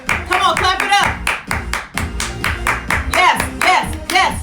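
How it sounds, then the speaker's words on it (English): A crowd at a motivational mindset talk claps along in a rhythmic, fairly loud beat, with sharp repeated hits and music or voices mixed underneath. "Come on, clap it up."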